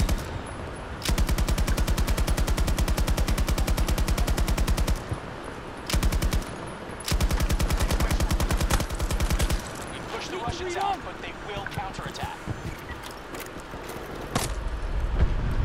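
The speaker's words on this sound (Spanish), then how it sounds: "yo tengo la ametralladora ligera" Light machine gun fire in Battlefield 2042 comes in long, rapid sustained bursts broken by short pauses, followed by scattered game sounds, with players talking over it.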